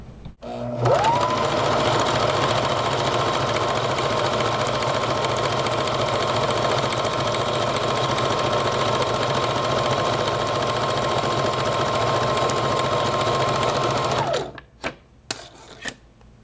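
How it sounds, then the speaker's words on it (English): A sewing machine stitches a faux serged edge on fabric, with an index card set under the presser foot, running in one loud, steady mechanical whir for about fourteen seconds before stopping. "I have once again placed my index card right in the center of that presser foot, and now I'm going to sew"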